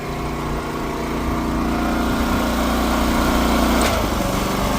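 A tractor engine running a bale wrapper drones loud and close at a steady pitch, easing slightly toward the end.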